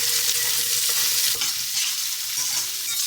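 Vegetables for veg pulao fry in a large kadhai with a loud, steady sizzle, while a spoon stirs them with occasional scraping knocks.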